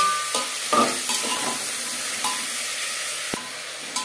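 Onions and tomatoes cooking in mustard oil for mutton kosha, a constant hissing sizzle with a few scraping stirs and soft clinks of a spatula against the pot, close by.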